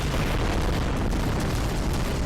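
Buildings burst apart under gunfire in Global Defence Force, a continuous loud roaring rumble of explosions filling just over two seconds without a break.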